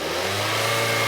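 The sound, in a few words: Hyundai Tucson engine revving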